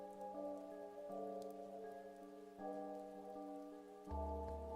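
Steady rain falling in an alley in the visual novel game CHAOS;CHILD, a continuous soft hiss lying under sustained musical tones, with no voices.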